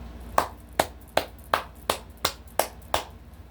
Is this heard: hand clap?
yes